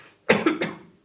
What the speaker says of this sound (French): On tousse dans son coude.